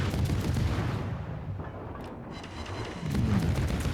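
Naval gunfire in World of Warships as the destroyer HMS Cossack shoots at a Gato, heard as a few deep, rumbling booms that roll into one another at moderate volume, with no talking.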